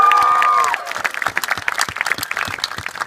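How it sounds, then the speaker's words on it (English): After a brief ringing tone at the start, a room of guests at a wedding-style speech breaks into steady, lively clapping that continues to the end, fairly close and loud. "Round of applause."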